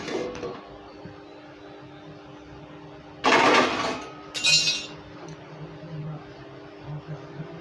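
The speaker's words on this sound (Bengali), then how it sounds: "এখন ঢাকনাটা তুলে জলটা ফেলে দেব" A metal lid lifted off a pot, followed by a rushing splash of boiling water being drained away, two loud close bursts of clatter and pouring over an otherwise quiet kitchen background with no talking.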